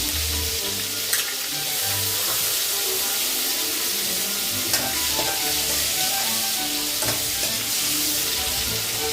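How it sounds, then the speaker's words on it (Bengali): Crushed green chillies frying in hot oil for a fish-oil and bottle-gourd-leaf dish, a loud steady sizzle close up with occasional stirring clinks and scrapes, no talk. "থেতো কাঁচা লঙ্কাগুলোকে আমি গরম তেলে দিয়ে দিলাম"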